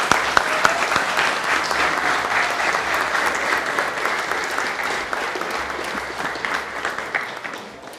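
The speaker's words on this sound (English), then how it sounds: "one more round of applause for the new candidates" A crowd at a council meeting claps steadily and loudly, dense applause that tapers slightly toward the end.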